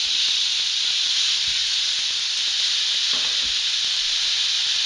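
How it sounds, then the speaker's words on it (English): Steady, loud sizzling hiss of short ribs searing in a hot pan, continuous throughout with faint clinks underneath. "And you hear that sizzle? That is exactly what you're looking for."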